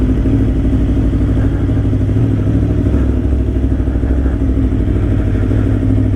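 An Aprilia motorcycle engine roars steadily and loudly up close, a dense continuous low rumble with no talk, heard from the rider's position while riding downhill.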